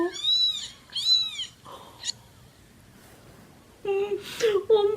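Baby kittens meow in a played recording, several high, wavering cries in quick succession with softer purring-like sounds between, close and clear, with a voice briefly heard.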